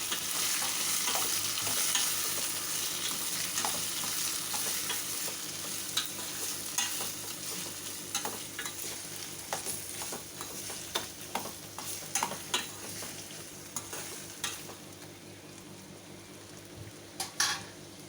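Curry leaves, ginger, tomato, potato and grated carrot sauté in a pan for upma, giving a steady sizzle that fades gradually while sharp spatula scrapes and taps against the pan grow more frequent.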